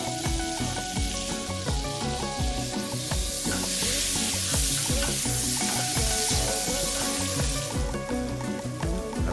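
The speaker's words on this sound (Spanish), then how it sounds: "con la otra parte del ajo en una sartén con mantequilla derretida y aceite de oliva," Garlic sizzles in a pan of melted butter and olive oil, a steady close crackling fry with bursts of spattering and occasional stirring clatter, running continuously with no voices.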